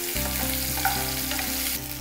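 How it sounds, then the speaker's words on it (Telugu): Chicken pieces seasoned with salt and pepper fry in a pan for a chicken sandwich, giving a steady, close sizzle with a low constant hum beneath and a brief stir near the end. "ఇప్పుడు ఈ చికెన్ పీసెస్కి సరిపడా ఉప్పు, మిరియాల పొడి వేసి చికెన్ పీసెస్ని చక్కగా ఫ్రై చేసుకుందాం."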